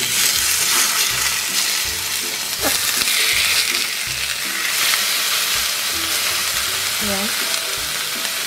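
Fish frying in a pan of hot avocado oil, a loud continuous sizzle with occasional stirring and clatter, and a brief spoken word near the start.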